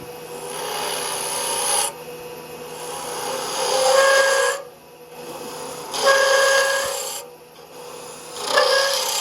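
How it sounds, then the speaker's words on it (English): A spindle gouge, 3/8 inch, cuts a wooden finial lidded box on a lathe, giving loud rasping passes that swell and pause in about four strokes, no talk. "here I'm using a 3/8 inch spindle gouge with the flutes angled at about a 45-degree angle"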